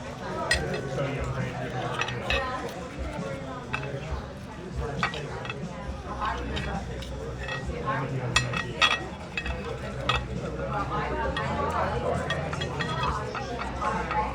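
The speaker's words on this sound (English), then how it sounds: "It's cutting a steak." Knife and fork scraping and clinking against a plate while a New York strip steak is cut, in a dim restaurant with people talking over the scattered metallic taps.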